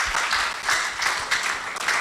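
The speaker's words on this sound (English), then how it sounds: "Make we clap for Lady H." An audience at an outside broadcast of a Nigerian radio program claps for a guest, a brief, steady patter of applause at moderate loudness.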